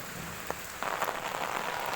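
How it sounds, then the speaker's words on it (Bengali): Heavy rain falls steadily, a dense, close hiss of drops on surfaces that grows louder partway through and continues without pause, no talking. "আমাদের এখানে বৃষ্টি হচ্ছে এত"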